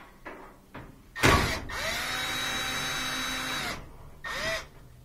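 A power driver backs small bolts out of the panel of a Thin Twin laundry center washer. A sharp initial burst is followed by a steady whirring run of about two seconds, then a shorter whir. The sounds are close and clear, with no speech.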